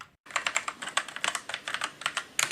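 Fast typing on a SIGNO MAXXINE KB731 gaming keyboard with brown switches, a close run of soft, muffled clacks in an uneven rhythm, with a brief pause near the start and a heavier burst of keystrokes at the end.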